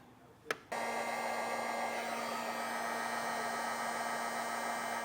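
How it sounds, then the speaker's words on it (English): A hair dryer style heat gun blows steadily to shrink heat-shrink tubing over a crimped fuse holder assembly, starting with a brief click and then running as an even, close, continuous whoosh with a faint tonal hum. "Now we'll take our heat source and heat this up,"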